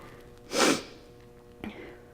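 A single sharp sneeze bursts out close to the mic, then a quick sniffle follows about a second later, with a faint background hum and no talking.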